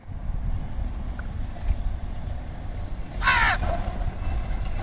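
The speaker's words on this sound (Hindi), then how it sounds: "कौवे भी यहाँ पे बहुत इंजॉय कर रहे हैं।" Crows call beside the Ravi river on a rainy day, a few faint caws over a low wind rumble, then a louder, clear caw burst up close near the end.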